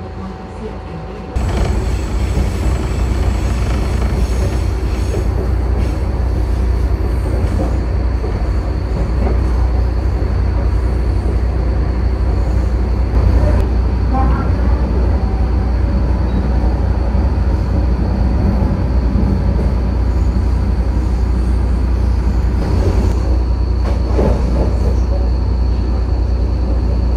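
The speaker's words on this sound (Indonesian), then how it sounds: "sesaat lagi kereta komuter lain Sindro akan tiba di stasiun Indo" A commuter train on the Indro line pulls into Indro station, a loud, steady rumble and hum of rolling cars that runs almost without change throughout, with no clear voice over it.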